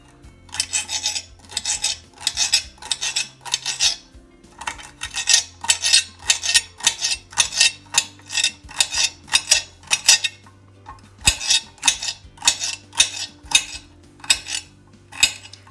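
Knife chopping celery into small pieces on a cutting board, a steady run of quick, crisp taps in bursts with a short pause partway through, close and alone.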